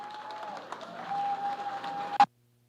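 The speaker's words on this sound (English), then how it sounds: "Let's give them a big round of applause." Audience applause at a Busboys and Poets anniversary event, moderate clapping under a steady tone that swells briefly, then cuts off abruptly into silence.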